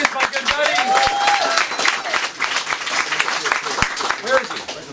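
A crowd claps and applauds steadily at a political campaign event for a congressional candidate, dense continuous clapping throughout with voices mixed in and one voice calling out over the applause.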